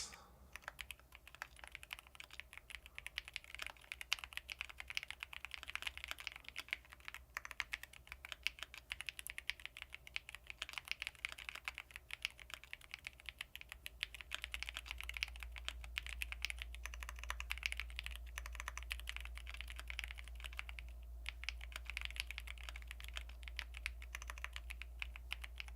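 Rapid, continuous clatter of typing on a computer keyboard runs close and steady throughout, with light irregular key strikes and a low hum underneath.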